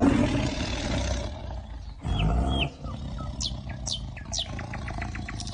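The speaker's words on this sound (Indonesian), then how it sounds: "Wow, ini harimau teman-teman." Tiger roar, loud and close, with a continuous rumbling growl over several seconds and bird chirps layered on top, with no talking.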